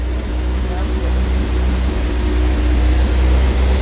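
A 1977 MGB Roadster engine runs at a steady idle, a loud low droning rumble close by, with people talking over it.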